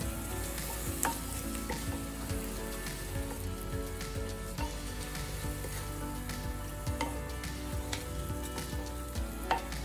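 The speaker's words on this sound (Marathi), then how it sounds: "आता मस्तपैकी हे मिक्स करून घ्यायचं सगळं." Spinach rice ingredients being stirred in a hot pan, with a constant loud sizzle and frying crackle broken by scraping stir strokes and small clinks, and no voices.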